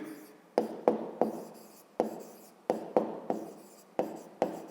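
Pen or chalk strokes writing down the side names of a pentagon, a series of sharp taps and short scratches in irregular rhythm, close and alone.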